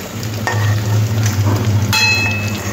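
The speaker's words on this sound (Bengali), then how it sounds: "আলুটা একটু লাল লাল করে ভেজে নেব।" Potatoes fry in hot oil, giving a loud, close, steady sizzle with a few metallic clinks and scrapes from stirring the pan.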